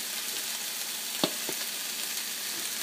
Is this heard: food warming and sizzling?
yes